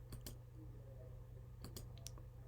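Several crisp computer mouse clicks, a pair near the start and a quick cluster later, over a steady low electronic hum.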